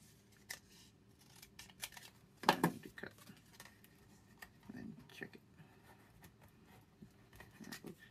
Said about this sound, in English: I'll just use a pair of scissors and follow